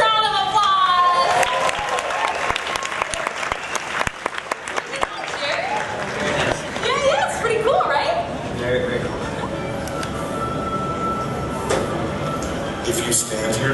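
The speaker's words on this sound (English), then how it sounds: "Can everyone give Jerry a huge round of applause?" A studio audience applauds a new crew member named Jerry at a Universal Studios Hollywood special-effects demo show, clapping loudly at first and then tapering into crowd noise and talk.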